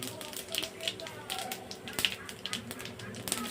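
Bay leaf and whole cumin seeds sizzle and crackle in hot oil with irregular sharp pops, while a voice talks quietly in the background.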